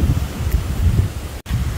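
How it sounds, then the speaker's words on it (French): Strong wind blowing outdoors under a clear blue sky, buffeting the microphone in low rumbling gusts with a brief dropout near the end, loud and close, with no voices. "J'espère que vous allez m'entendre parce que vous voyez il y a pas mal de vent hein."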